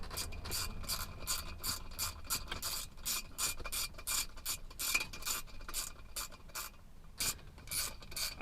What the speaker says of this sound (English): I'm putting these bolts in just so they settle, but I'm not making anything tight yet